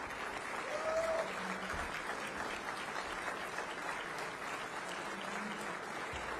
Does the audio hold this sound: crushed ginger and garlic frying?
no